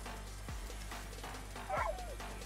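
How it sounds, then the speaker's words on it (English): Dogs barking: two or three short, mid-distance barks and yips spaced about a second apart over a steady low hum. "Why can I hear the dogs barking?"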